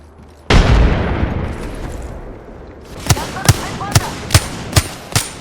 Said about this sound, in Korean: 세열 수류탄 공격